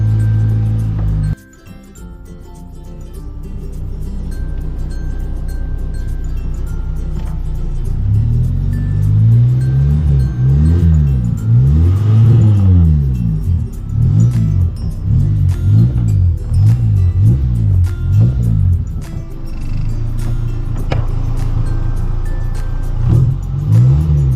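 A car engine revs up and down in repeated rising and falling bursts, loud and close, with the motor running steadily between the revs.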